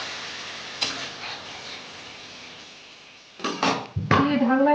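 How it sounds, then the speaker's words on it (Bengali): A lid goes onto a cooking pot of frying radish, potato and spice curry with papad, giving a few close metallic clanks and knocks near the end after a stretch of soft background noise. "দিয়ে ঢাকনা দিয়ে দিলাম।"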